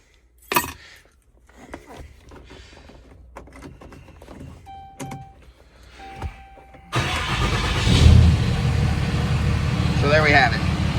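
A 1969 GMC Suburban truck is started with its factory key: a few clicks and a faint key chime, then the engine cranks and catches into a loud, steady idle close by. A voice speaks briefly before the engine starts.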